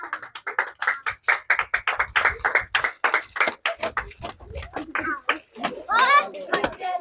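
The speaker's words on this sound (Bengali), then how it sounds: "জোরে করে হাততালি হবে" An audience clapping together at a children's game event, a rapid, fairly rhythmic burst of close, sharp claps that thins out toward the end, with voices and a child's cry mixed in.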